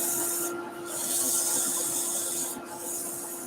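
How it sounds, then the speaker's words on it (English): Hand sanding inside a rippled ash wooden bowl gives a steady close rasping rub that swells and eases in long strokes, with a brief lull near the start and another near the end. "I'm going to get up into there with some hand sanding in a minute"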